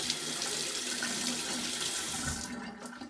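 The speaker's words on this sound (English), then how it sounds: "let me rinse off my fingers" Kitchen sink tap running steadily as fingers are rinsed under the stream, a close continuous splashing rush that tapers off near the end.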